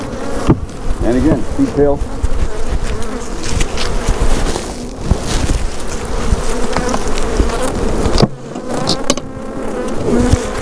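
A package of honeybees shaken in a beekeeping yard, giving a loud, steady swarm buzz with surges and sharp jolts as the box is knocked, while someone speaks briefly close by.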